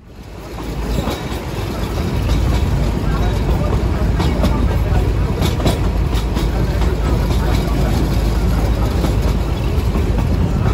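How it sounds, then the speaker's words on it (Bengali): Darjeeling toy train engine pulling away from the station, a steady loud rumble of wheels and rolling stock building up and holding, with faint talk beneath. "এই টয় ট্রেন ছেড়ে চলে যাবে এনজেপি।"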